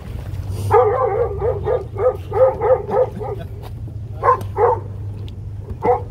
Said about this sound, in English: The dogs are not happy today.